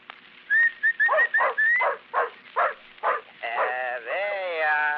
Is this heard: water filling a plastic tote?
no